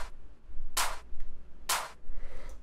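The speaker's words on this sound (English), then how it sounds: "So this is really like the clap." First layer of a layered clap sample in a UK bass production: two bright, sharp clap hits about a second apart with a faint tick between, over a low rumbling bed, moderately quiet and alone.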